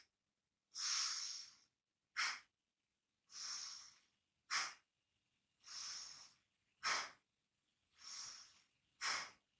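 Rapid, forceful yoga bellows breaths: eight sharp nasal exhales in an alternating long-short pattern, each a close, breathy whoosh separated by brief silences.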